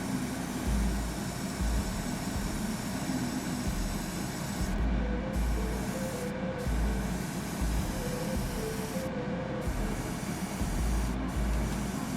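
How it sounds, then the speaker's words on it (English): Gray surfacer primer hisses steadily from a spray can in a spray booth onto model car rotor discs, a continuous broadband rush with a few brief pauses between bursts and no talking. "Now moving to the spray booth to apply surface primer on the rotor discs."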